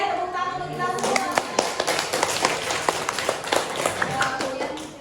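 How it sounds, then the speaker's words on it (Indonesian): A small group of teachers applauds during a teacher-training mentoring session, with scattered, uneven claps running for several seconds while voices talk over them. "Tepuk tangan untuk kita semua"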